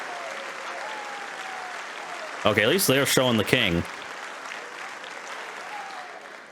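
A crowd claps steadily at an event marked by fanfare and the presence of the king, with a short, louder burst of applause; someone comments briefly over it.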